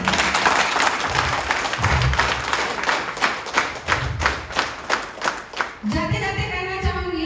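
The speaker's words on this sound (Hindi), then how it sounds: "इनके लिए एक बार जोरदार तालियां।" Vigorous applause from an audience at a motivational talk, rhythmic, loud clapping that builds into a steady beat over several seconds, then cuts off abruptly as a voice begins.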